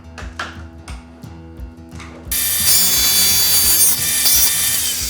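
Saw cutting a groove about halfway into a wood board for a small book box: a few quiet clicks and taps at first, then a loud, steady, close-up rasping cut that runs without a break to the end.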